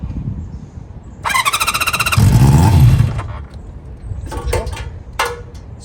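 A 1973 Honda CB350 Four motorcycle engine, just kick-started, idles loud and close with a high squealing whine and harmonic tone, then a throaty surge as the idle is raised, settling back to a rough, uneven idle.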